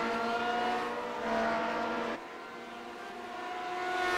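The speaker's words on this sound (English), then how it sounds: "Come off the corner with good acceleration, and it's going to be a drag race down to the final chicane." A race car in the Grand Prix Legends video game accelerates down a straight toward the final chicane at Montreal, its engine a loud, steady, high-pitched whine that shifts gear once and then climbs again, with no talking.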